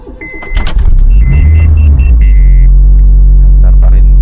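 A turbocharged Honda City project car with a check-engine fault cranks briefly and catches, its engine then settling into a loud, close, steady rumbling idle.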